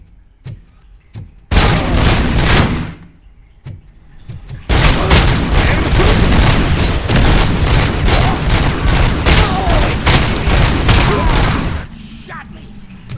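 Gunfire in RoboCop: Rogue City, a loud burst of shots, a short pause, then a long sustained barrage of rapid, close shots that stops abruptly.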